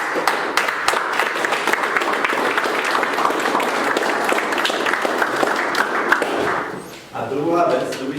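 Audience applause at a personal finance seminar, steady dense clapping from a room full of people that fades out near the end as a voice begins speaking.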